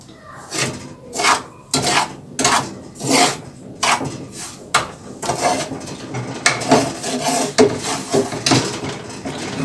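A spoon stirs and scrapes thick semolina in a pot, giving repeated rhythmic rasping strokes with metallic clinks, close and fairly loud, with no talk.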